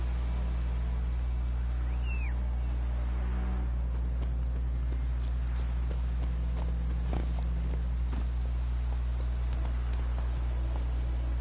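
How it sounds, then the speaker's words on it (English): The horse Roach walks in The Witcher 3, hooves clip-clopping in a steady rhythm over a constant low game hum. A brief squeak sounds early on. "Whoa there, Roach."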